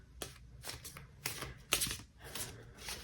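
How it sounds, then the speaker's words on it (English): Quick riffling card shuffles, several bursts of crisp fluttering snaps in a row, close and fairly quiet, with no talking. "Giving a quick shuffle to this deck."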